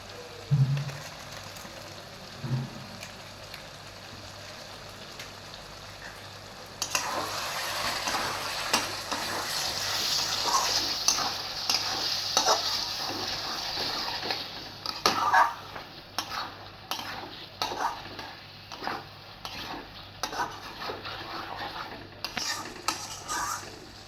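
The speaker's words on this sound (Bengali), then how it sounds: "আমি এটা খুব ভালোভাবে কষিয়ে নেব যতক্ষণ না তেল ছেড়ে আসছে" Spices and Kashmiri chilli powder fry in oil for a fish curry. After a quiet start, a loud, steady sizzle begins, broken by repeated scraping stirs and clinks of a utensil against the pan.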